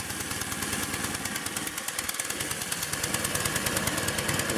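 A vehicle engine runs steadily at idle with a rough, knocking pulse while the clutch slips and spins, and no one speaks over it.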